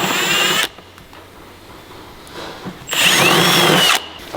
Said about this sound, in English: I'm going to drill right on this mark and just hope it's in the middle.